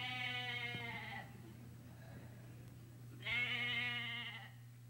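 Sheep in a Christmas pageant give two clear, wavering bleats, one at the start and one near the end, with a quiet stretch between and a low steady hum underneath.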